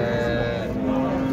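At a Turkish livestock market in Şarkışla, a cow gives one sustained, close, low moo with a steady pitch, surrounded by faint market murmur.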